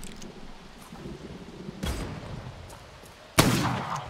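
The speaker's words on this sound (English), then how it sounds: "Somebody shooting at me." Gunfire in the Bloodhunt battle royale game: two sharp broadband bursts, the second louder and closer, with a rumbling tail over a steady low ambient wash.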